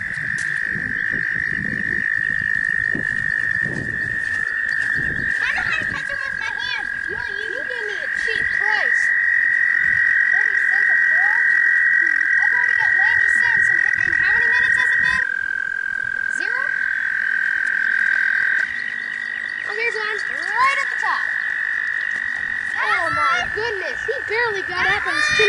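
Frogs croak loudly and repeatedly during a frog relocation, rapid overlapping calls over a sustained high trilling chorus, with occasional voices in the background.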